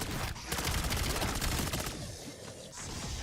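Rapid gunfire from the Black Ops 7 Zombies game, in the Ashes of the Damned map, comes as a dense, loud burst of automatic shots that continues for most of the moment with barely a break.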